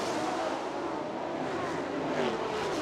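Mid-engine race car roaring around the Bangsaen street circuit in Chonburi, Thailand, a loud, continuous engine drone heard from the pits, with a slight rise in pitch toward the end.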